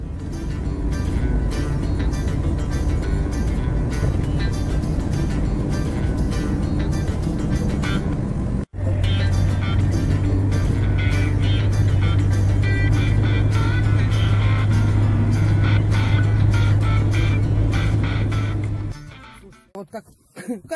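Car driving on a road in Moscow: a continuous low engine hum and road rumble heard from inside the cabin, steady throughout with a brief cut midway, fading out near the end, while people talk over it.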